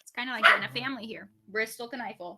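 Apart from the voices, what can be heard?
dog barking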